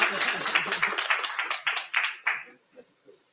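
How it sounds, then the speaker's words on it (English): Short burst of audience clapping at a learning-technology conference session, a room of people clapping together that thins out and fades to a few scattered claps within a couple of seconds. "Give a round of applause."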